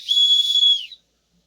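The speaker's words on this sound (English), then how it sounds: "It's even got a whistle." A small whistle built into a cheap survival-kit spoon-and-knife utensil gives one loud, steady shrill blast of about a second, alone and close, then cuts off to silence.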